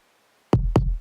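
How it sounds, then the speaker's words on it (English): A kick drum with a ducking noise layer in a future garage production strikes twice in quick succession after a faint hiss of noise. Each hit is a deep, punchy thump with a bright click on top, close and loud. "I've used that ducking noise technique on the kick drum"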